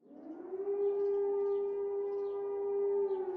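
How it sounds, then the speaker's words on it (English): A civil defense warning siren plays from a recording, holding a steady wailing tone that swells in at the start and sustains without speech. "the sirens will emit a rising and falling note"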